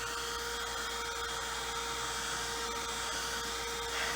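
Steady, continuous whir of a hand-held dryer blowing on a painted Chalk Couture fall door tag, a constant airy hum with no talk.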